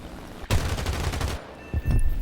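Bursts of 20mm cannon fire from a Bf 109 G-14 fitted with 20mm gun pods in a flight video game: a dense, rapid stream of shots about a second long, a pause, then a shorter second burst, loud and close.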